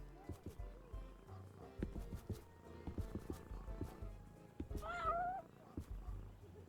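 Within Ben 10: Power Trip, footsteps and clicks tap along steadily before a cat lets out one clear meow near the end.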